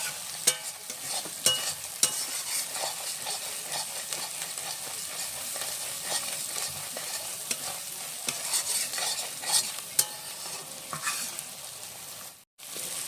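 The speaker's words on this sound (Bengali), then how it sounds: "মশলা যত নাড়াচাড়া করবে তত মশলা রেডিটা ভালো হবে।" Spice paste sizzles steadily in a hot pan while a spoon scrapes and stirs it, with occasional clinks against the metal. It is cooking for a chicken and taro (kachu) dish, with a continuous close frying hiss throughout.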